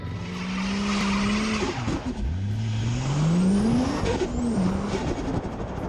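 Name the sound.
Ford XR6 Turbo burnout with tyre squeal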